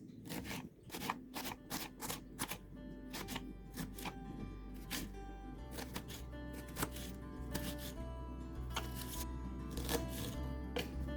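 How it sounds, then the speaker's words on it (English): A knife chops a shallot into small pieces on a board in a home kitchen, giving a series of quick, close, crisp taps in irregular bursts over a low steady hum. "this is the shallot that I'm going to cut in small pieces"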